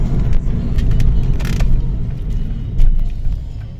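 A Ford Focus 1.4 car driving along, heard from inside as a steady low engine and road rumble, continuous and fairly loud.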